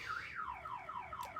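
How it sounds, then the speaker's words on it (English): A car alarm blares in a looping siren pattern of repeated sweeping electronic whoops, steady and fairly loud, with no talk over it. "My alarm."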